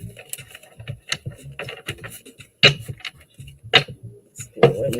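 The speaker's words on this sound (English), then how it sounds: "Let's do one more shuffle" Tarot cards are shuffled by hand in short crisp bursts of riffling and tapping, several sharp clacks spaced irregularly, with quiet speech murmuring between them.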